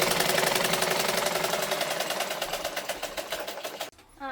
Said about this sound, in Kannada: ಈ ತರ ಹೊಲಿಯೋದ್ ನೋಡ್ರಿ